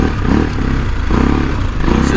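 Adventure motorcycle riding an off-road gravel trail in the Balkans, steady engine drone with rattling and scraping from the rough ground, loud and continuous throughout.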